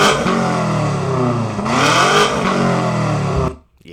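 A loud, close BMW M5 with a lightweight Akrapovič exhaust revs up and falls, its engine note rising sharply in a burst before cutting off abruptly.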